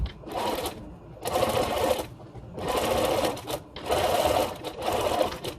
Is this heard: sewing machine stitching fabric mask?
yes